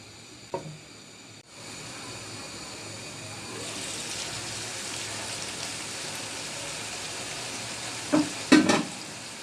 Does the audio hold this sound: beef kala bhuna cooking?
yes